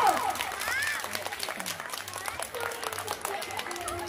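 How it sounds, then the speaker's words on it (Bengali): Scattered hand claps during a village comedy skit, sharp and uneven, mixed with overlapping voices and background chatter. "একবার জোরসে হাততালি মারো"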